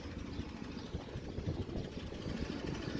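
The engine of a Swordsman lawn mower with a rear roller runs on a garden lawn, a steady low rumbling drone at moderate level with no voices.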